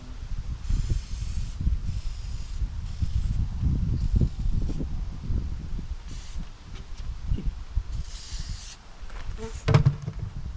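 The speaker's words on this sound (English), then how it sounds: "after you spray it" Several short bursts of aerosol spray hiss, with pauses between them, close by over quiet background handling noise.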